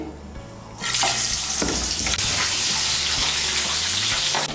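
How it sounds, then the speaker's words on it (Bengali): A salted, turmeric-coated fish head fries in hot mustard oil, producing a loud, steady, close sizzle that surges in suddenly and holds dense and unbroken, with no speech. "এর মধ্যে আমি নুন হলুদ মাখিয়ে মাছের মাথাটাকে ভালো করে ভেজে নেব।"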